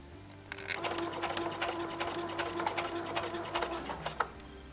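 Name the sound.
sewing machine stitching along a fabric square's diagonal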